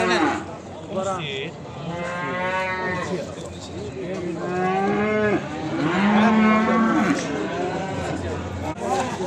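At a cattle market in Beylagan, calves moo repeatedly in long, strained, nasal bellows, several overlapping calls loud and close, with market chatter and voices mixed in.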